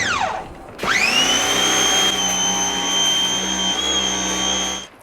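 A Simoniz pressure washer sprays water onto a car. After a brief dip, the motor spins up into a loud, steady whine that holds for several seconds and then cuts off abruptly at the end.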